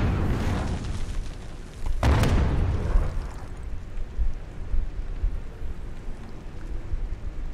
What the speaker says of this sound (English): you want me to throw a flash grenade